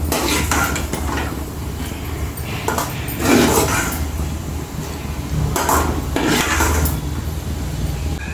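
Fried dry fruits scooped out of a pan while making rava laddu, with a metal spoon scraping and clinking against the pan in repeated bursts over a steady kitchen background.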